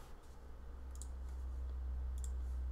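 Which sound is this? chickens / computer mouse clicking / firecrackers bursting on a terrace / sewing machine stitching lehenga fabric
computer mouse clicking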